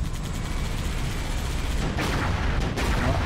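Gunfire in Halo: Reach, a dense low rumble of distant shooting and booms rolling continuously, with a couple of sharper bursts near the end.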